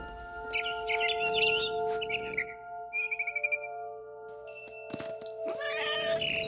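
A cat in the video game What Remains of Edith Finch meows and caterwauls in several drawn-out calls, loud and close over a steady ambient game drone, with no talking.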